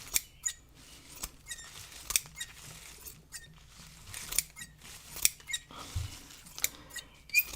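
Scissors cut tea bag scraps and fabric for a collage, giving sharp, close snips at an irregular pace with small handling rustles between cuts, quiet overall and without speech.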